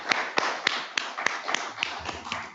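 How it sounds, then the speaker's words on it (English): Applause from a small audience at a meeting, heard as a sparse, fairly even run of distinct claps rather than a dense ovation. "can we just have a round of applause for our panelists?"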